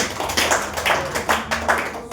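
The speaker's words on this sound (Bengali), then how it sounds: "শফিকুল স্যারের জন্য একবার হাততালি হোক" Applause for a speaker at an RCM meeting in Basudevpur, heard as several bursts of clapping from a gathered audience, fairly close and moderately loud, with no voices over it.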